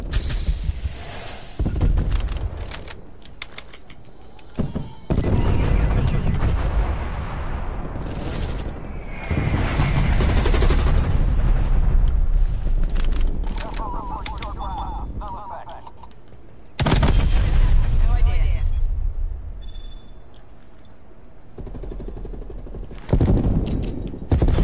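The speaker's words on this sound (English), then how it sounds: "Got an artillery gun." Heavy artillery and gunfire from Black Ops Cold War gameplay, loud repeated booming blasts and bursts throughout, with a player talking over the action.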